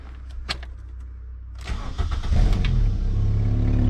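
An MK3 Volkswagen GTI with a new muffler cranks after a few clicks and knocks, catches at about one and a half seconds, and settles into a loud, close idle with a slight rev.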